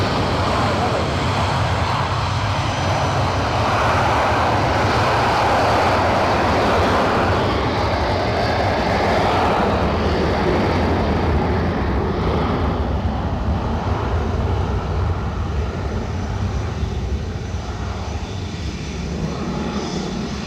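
An airliner taking off or landing at Edinburgh Airport produces a loud, sustained jet engine roar with a deep rumble that holds steady throughout.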